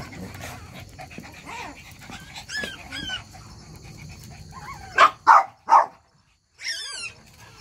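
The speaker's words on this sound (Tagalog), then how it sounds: "Shih Tzu Maltese" Two-month-old female Shih Tzu puppy barking in three quick, loud yips near the end, after several seconds of soft panting and snuffling close by; a faint bark follows a short silence.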